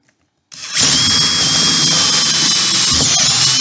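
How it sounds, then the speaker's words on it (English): A power drill with a hole saw bit spins up after a moment of silence and cuts a hole in the middle of a timing box, a loud sustained whining grind with a high squeal, close and continuous. "I'm going to just drill a hole right in the middle, just so I can get a hole big enough for my jigsaw to fit in."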